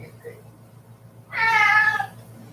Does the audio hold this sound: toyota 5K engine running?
no